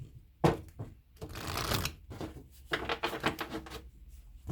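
Tarot cards are shuffled by hand close up, with bursts of riffling and soft slapping flicks coming in irregular clusters, fairly quiet and with no talk.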